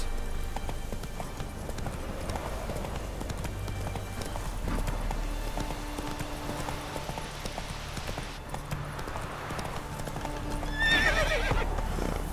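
Roach, the horse from The Witcher 3, galloping with steady rhythmic hoofbeats under game music, then a neigh near the end, with a quiet voice now and then.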